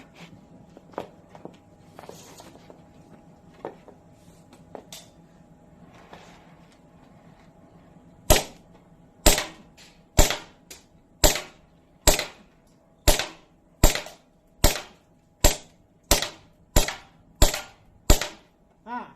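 Airsoft pistols, an M1911, Hi-Capa 5.1 and Glock 19, are test-fired on air from a tank: a few soft early pops, then a steady string of about fourteen sharp, loud shots at roughly half-second spacing.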